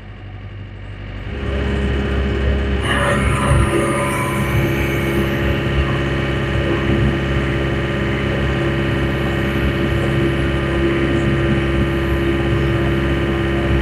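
A 6 ton excavator engine revs up from idle to about half throttle, settling into a loud, steady diesel drone with a constant hum, close by and without talk.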